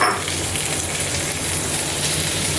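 Chopped okra sizzling with onions in a hot pan, a steady, dense frying crackle that holds evenly throughout at close range.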